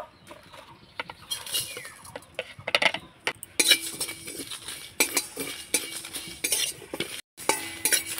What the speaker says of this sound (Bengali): এই মশলাগুলো শুকনো খোলায় ভেজে নেব